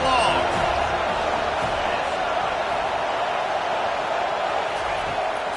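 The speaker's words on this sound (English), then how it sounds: "Here comes the crowd trying to make it tough on 3rd and long." A college football stadium crowd roars on a third-and-long down, a dense, loud, sustained wash of noise with a commentator talking over it.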